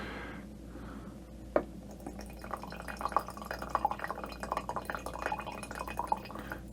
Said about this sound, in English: Maybe a little tad more vinegar.